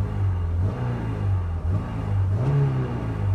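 A Honda S2000 (AP1) engine with its stock muffler revs steadily and loudly. The low, droning exhaust tone rises in pitch with a blip near the end, and no one talks.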